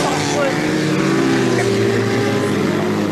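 Engine of a Volkswagen Golf racing in the 1300cc final of a 1989 autocross at Le Faou, a steady droning roar with low harmonic hum that stays loud and continuous throughout, with a commentator speaking over it.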